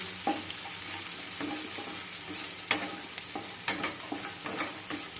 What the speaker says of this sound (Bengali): পেঁয়াজটাকে হালকা একটু ভেজে নিতে হবে